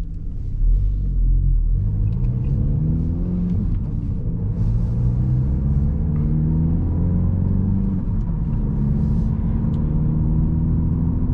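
A VW GTI MK8 with a Southbend Stage 3 Endurance clutch driving on a cold Florida day, its engine a steady deep in-cabin rumble with gear-shift pitch rises and falls, loud and continuous without speech.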